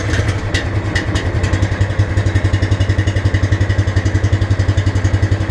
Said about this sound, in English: I still need to start my my super powerful Honda.